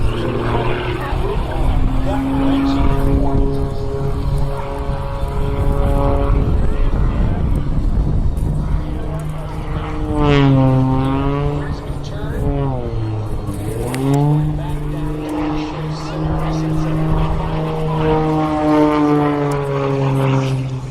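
An MXS aerobatic airplane performs at the 2023 Columbus Air Show, its propeller engine droning loudly with rising and falling pitch sweeps as it maneuvers and slows, close and continuous.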